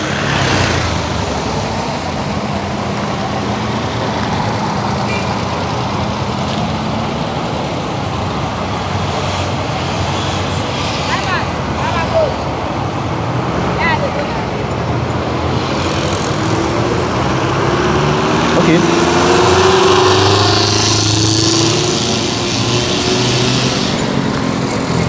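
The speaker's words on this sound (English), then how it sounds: "This is causing huge traffic on this corridor." Heavy, slow-moving traffic crawls along the flooded, potholed Badagry Expressway, a continuous wash of engine rumble and road noise with passing vehicles. A louder motor swells near the end, and no one speaks.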